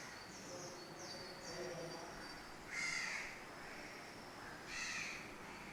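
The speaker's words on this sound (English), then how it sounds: "You hear the sound of a crow" A crow caws twice, distinct harsh calls standing out from a quiet outdoor background with faint bird chirps and low ambient noise, moderately distant.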